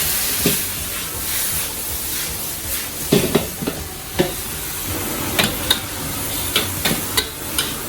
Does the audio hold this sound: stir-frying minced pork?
yes